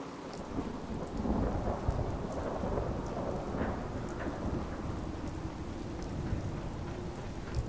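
Steady heavy rain hisses and patters in the video game Fallout 4 while thunder rolls low beneath it, a dense, continuous storm ambience with no voices.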